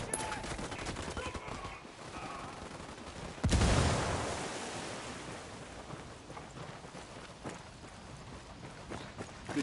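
Gunfire in the video game Ghost Recon Wildlands: scattered sharp shots crack over a windy backdrop, then one loud heavy blast booms and rolls away into a long fading rumble before more isolated shots follow.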